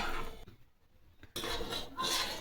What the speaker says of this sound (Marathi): यामध्ये पिठी साखर पूर्ण विरघळून घ्यायची आहे आपल्याला